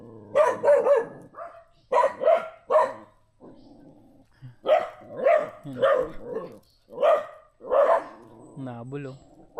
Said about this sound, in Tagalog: Tapos ito, dayo yung aso.